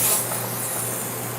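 A steady, breathy hiss of a spray bottle misting a glass window, close and continuous for a moment.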